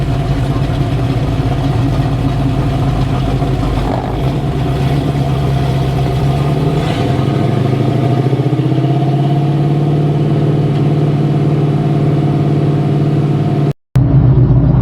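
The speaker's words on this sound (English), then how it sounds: "Nova is putting down 960 at the wheel. 960. Supercharged LS running E85." A Chevrolet Nova with a supercharged LS V8 running on E85 rumbles steadily nearby, its deep engine note shifting pitch midway, loud and continuous until a brief cutoff near the end.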